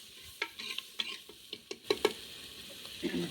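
A spoon stirs tempered dal with asafoetida and turmeric in a pot, giving a string of distinct scraping taps and clinks over a soft sizzle.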